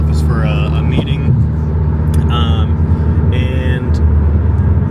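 Steady low engine and road drone inside a moving Ford Focus ST, continuous and fairly loud throughout, with someone talking over it.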